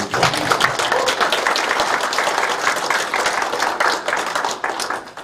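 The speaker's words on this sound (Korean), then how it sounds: "이 대목은 박수가 나와야죠." Sustained applause from a room of attendees at a county government press conference in Yangpyeong, steady and dense throughout with a little murmuring mixed in.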